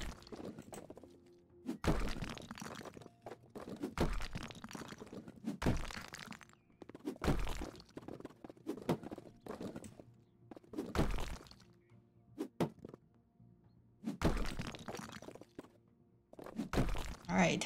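Crunching bites into a brick-shaped snack, repeated loud crisp cracks and crumbly crunches every second or two, close and dry, with brief pauses between bites and no talk.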